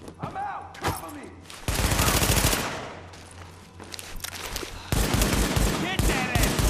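Sustained automatic gunfire in Tom Clancy's The Division, long loud bursts of rapid shots broken by short pauses, with shouting game voices heard among the shooting.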